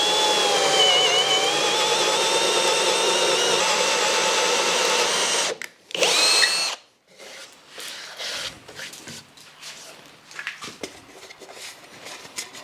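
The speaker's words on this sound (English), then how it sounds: "now that all the holes are drilled" Power drill boring holes in wood for a workbench tool holder, a loud steady whine for several seconds, then a short second burst, followed by scattered handling knocks and rubbing.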